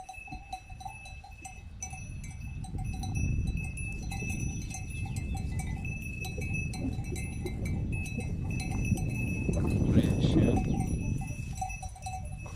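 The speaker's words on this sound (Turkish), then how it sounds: "koyunlarımız öyle gidiyorlar." Small bells jingle over soft shuffling of a flock of sheep heading out to pasture, with a swell of hooves and movement near the end.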